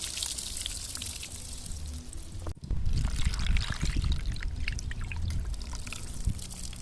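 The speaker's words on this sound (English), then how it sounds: "we're gonna wash off the salt off the saltfish and soak it in water" Water pours and trickles steadily close by over saltfish being soaked outdoors, briefly cutting off, then resuming as a fuller splashing stream.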